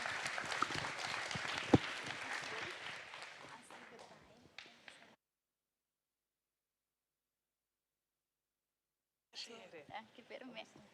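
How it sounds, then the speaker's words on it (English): An audience applauds panel speakers at a conference, the clapping strongest at first and fading out over several seconds, followed by silence and then scattered talk. "a big applause for our speakers"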